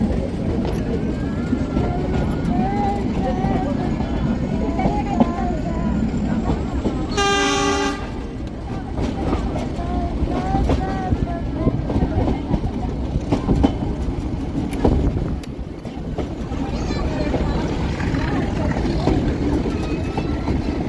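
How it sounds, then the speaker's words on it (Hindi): The Ooty toy train, a small Indian hill railway train, rolls steadily with loud continuous rumble and rail clatter heard from on board, one brief sharp horn toot cutting through midway. "हम लोग ऊटी के टॉय ट्रेन में सवारी करते हुए आगे की तरफ निकल चुके हैं।"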